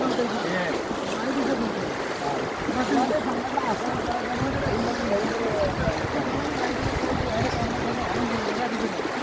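Floodwater surges through a waterlogged town up to the station, a loud continuous rushing roar with gusty wind noise.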